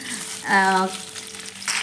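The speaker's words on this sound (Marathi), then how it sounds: "तेल टाकलं आहे त्यावर कांदा टाकलाय कांदा भाजून घ्यायचा आहे आपल्याला" Chopped onion fries in hot oil in a kadhai with a soft, steady crackling sizzle, briefly overlapped by a person talking.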